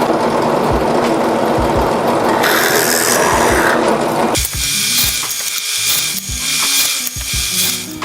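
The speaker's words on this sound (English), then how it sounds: "I've gone ahead and chucked up the appropriate drill bit in my press here" A drill press bores holes through softwood pine, its motor whirring as the bit grinds into the wood in repeated close, loud passes, with brief clicking and changes in pitch between holes.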